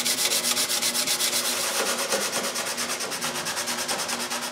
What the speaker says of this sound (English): Then I sand all the excess paint.